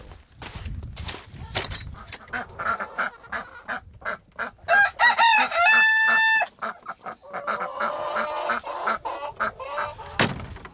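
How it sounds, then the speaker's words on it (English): Backyard chickens being fed make loud, close clucking and squawking in rapid overlapping bursts, with one sustained honking call partway through and a sharp cry near the end. "So we'll go out and feed the chickens."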